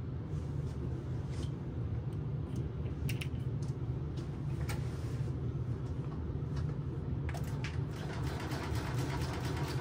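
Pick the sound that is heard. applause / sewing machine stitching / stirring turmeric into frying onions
sewing machine stitching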